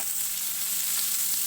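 Mint leaves frying in hot oil while cooking egg biryani side dish, a loud, steady sizzle with fine crackling throughout, close up and with no voices.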